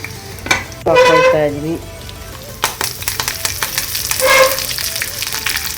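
Ginger garlic paste frying in a pan gives a hissing sizzle, punctuated by clinks of a spoon against the pan and brief stirring scrapes, with a few sharp bursts standing out and no speech.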